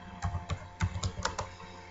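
Code is typed on a computer keyboard in a short burst of about eight distinct clacking keystrokes at an uneven pace, close and clear with no speech.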